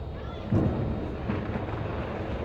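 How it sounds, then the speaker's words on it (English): Ice sliding and falling off the roof of an indoor sports dome during a game, a low sustained rumble like distant thunder that swells briefly, heard over steady ambient hall noise. "There is some ice falling off this dome here. It sounds like a thunderstorm."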